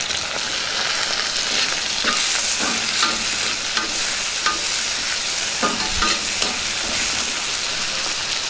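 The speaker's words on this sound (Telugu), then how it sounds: "దీన్ని కూడా బాగా కలుపుకుందాం ఇందులోనే టమాటా ముక్కలు కూడా వేసేసుకుందాం" Tomato pieces stirred into a frying Telugu spring onion and chana dal curry, a continuous sizzle with a spoon scraping and clacking in the pan at intervals, close and fairly loud.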